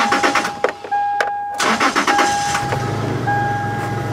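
A Toyota car engine cranks and catches after a jump start through the cigarette lighter with a GOOLOO GF01 booster, rising to a steady idle rumble close by, with short bursts of cranking before it settles.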